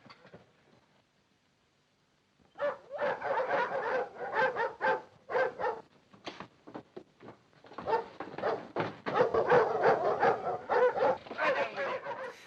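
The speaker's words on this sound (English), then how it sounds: "The sequence of tunnel shots that now show the police chasing Hannah conclude with barking dogs at the end of the train" Dogs bark at the end of a train during a police chase through tunnels in the 1935 film The 39 Steps, a loud run of repeated barks and yelps that begins after a quiet opening and continues steadily to the end.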